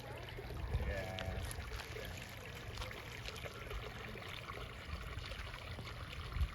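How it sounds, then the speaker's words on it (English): An artesian spring runs steadily into a pond at Dankworth Pond State Park in Safford, Arizona, making a soft, continuous trickling and flowing wash with low rumble underneath, fairly faint and unbroken. "So an artesian spring is feeding into the pond here, and the water's running really steady."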